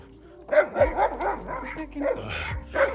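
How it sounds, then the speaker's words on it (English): A dog barks repeatedly at close range, quick yappy barks in an irregular run, mixed with some whiny yips. "I don't even think they can hear me with all this barking."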